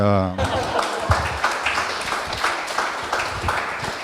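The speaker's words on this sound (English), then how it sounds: "You can clap profusely." An audience at a panel discussion claps after a speaker's brief voice at the start, a scattered but continuous round of hands with voices mixed in underneath.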